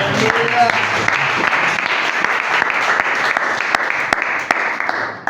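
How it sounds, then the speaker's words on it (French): A church congregation applauding, a dense sustained burst of clapping from many hands that holds steady for several seconds before tapering slightly at the end. "Sois prêt à acclamer pour le Seigneur."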